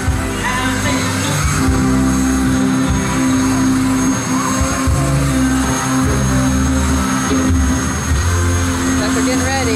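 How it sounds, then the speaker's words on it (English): Medical Lifeflight helicopter taking off nearby, a steady, loud roar of rotor and turbine noise filling the whole stretch, with people talking underneath. "so I have to show the helicopter leaving"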